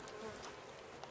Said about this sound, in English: The bees are humming again